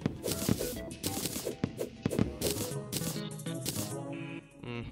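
Meteor sound effects from the video game Terraria, a series of loud, punchy thumping impacts in quick, uneven succession over a dense game soundscape with bright crackling bursts, alone without talk.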